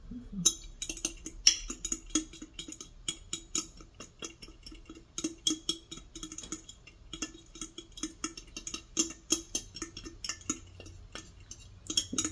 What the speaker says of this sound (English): I'm going to take it over to the corner of this jar and stir